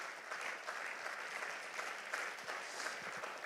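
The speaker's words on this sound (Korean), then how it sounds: "여러분 박수를 보내주시기 바랍니다" Hall audience at a Korean university leadership lecture applauding a dean: a steady, moderately distant wash of many hands clapping throughout, with no speech over it.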